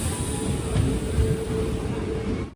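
A passenger train runs steadily near a small, quiet, tree-lined station on the way to Nagapattinam, its continuous low rumble and rolling noise loud and unbroken throughout.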